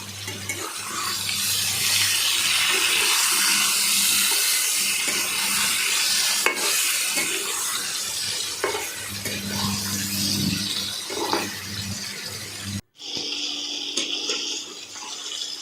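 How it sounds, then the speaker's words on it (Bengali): Boiled potatoes frying in a kadai with turmeric and a little salt for Kashmiri aloo dum, giving a loud, steady hiss and sizzle with stirring scrapes throughout, cut off abruptly near the end by a brief quieter stretch. "সেদ্ধ করা আলুগুলো দিয়ে হলুদ দিয়ে আলুটাকে অল্প পরিমাণে নুন দিয়ে আলুটাকে ভেজে নিলাম"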